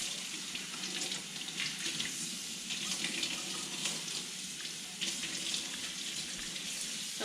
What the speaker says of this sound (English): I just really run it under water and get it nice and wet.